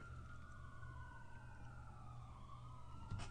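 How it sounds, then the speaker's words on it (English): A faint siren wails in the distance, its pitch sliding and wavering steadily over a low background rumble. "you might hear some sirens"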